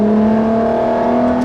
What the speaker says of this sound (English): I've just moved the throttle there about 1/1000th of an inch and you get this sudden burst of acceleration.